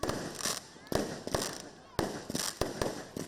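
Fireworks at a Tết celebration in a Reup ethnic village in Kon Tum Province, Central Highlands, crack in repeated sharp bursts, each followed by a crackling, fizzing decay, fairly distant.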